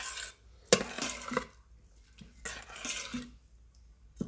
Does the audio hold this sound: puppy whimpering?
no